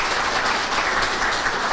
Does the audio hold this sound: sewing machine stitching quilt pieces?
no